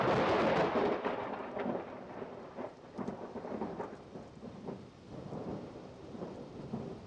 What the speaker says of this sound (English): You hear the thunder, that means that lightning is about 2 kilometers away.